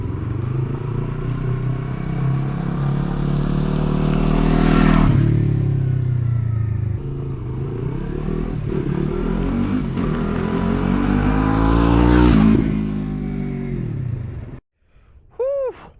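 A Yamaha R3 motorcycle with an Akrapovic slip-on exhaust makes two loud passes, each engine note building to a peak and then dropping in pitch as the bike goes by, followed by a short quiet gap at the end.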